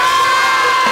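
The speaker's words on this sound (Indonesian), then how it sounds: "Oh jadi teriak bersama?" A group of young boys at an Islamic boarding school shout together in one loud, sustained burst of massed voices.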